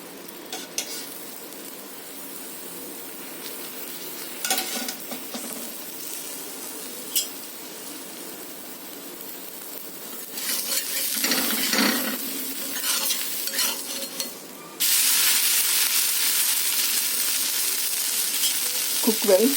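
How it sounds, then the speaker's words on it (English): Butter dosa sizzles and fries on a hot pan, a soft crackling that grows louder and denser near the end, with occasional scrapes of a utensil and no talking. "Now after the top portion is dried up, you apply the butter."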